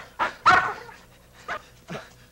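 Several sharp dog barks burst out close by, a loud double bark followed by two smaller yips spaced apart, with no talking over them.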